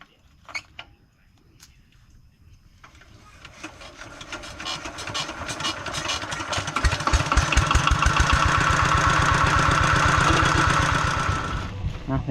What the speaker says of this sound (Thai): เอารถไถไอ้แก้วไปพี่น้องเนาะ